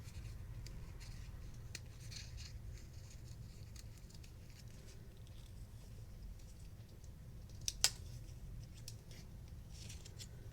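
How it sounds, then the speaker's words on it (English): Scissors cut paper scraps for a handmade card with soft, quiet snipping and rustling, and one sharper click near the end. "Try not to cut off his little legs."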